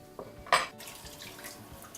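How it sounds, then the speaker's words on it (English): Hot tap water running into a sink while the top half of a gas stove burner cap is scrubbed with soap and a sponge, with a sharp clatter of metal partway through and softer splashing after. "I'm going to run the top piece underneath some hot water with soap and a sponge"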